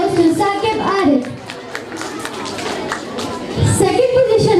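Applause for an award winner at a Quran award ceremony, a crowd clapping under an announcer's voice for a few seconds, swelling again near the end.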